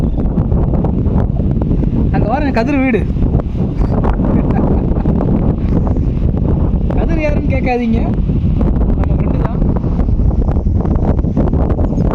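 Steady wind noise rushes across the microphone throughout at a hilltop viewpoint near Attappadi, Kerala, with a person talking in Tamil over it and brief chirpy sounds in between.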